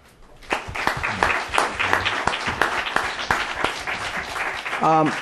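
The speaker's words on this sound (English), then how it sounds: "If you'll join me now in a round of applause for our two speakers" Audience clapping at a book launch for two speakers, a moderately loud spread of individual claps with distinct sharp hits, and a voice briefly audible near the end.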